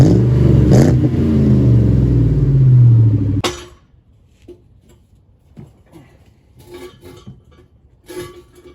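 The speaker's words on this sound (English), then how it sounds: "I'll give it some revs real quick before we take this catback off." Ford SVT Cobra V8 with a Bassani catted X-pipe revving loudly, a rising roar that cuts off abruptly, followed by faint clinks and handling noises.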